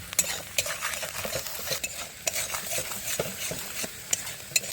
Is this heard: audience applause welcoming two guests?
no